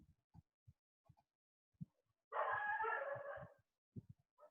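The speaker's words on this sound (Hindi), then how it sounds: "इनकी आवाज अमर हो गई अब इन कुत्तों की" Dogs outside a room let out a series of short, clipped barks and then one loud, drawn-out howling cry lasting about a second, followed by a few more scattered barks, with no speech over them.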